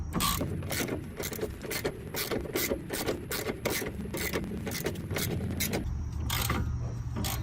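A ratchet wrench loosening the rear shock absorber bolt on a Honda Civic, clicking in a quick, steady rhythm of repeated ratcheting strokes, close and clear, with a short pause near the end.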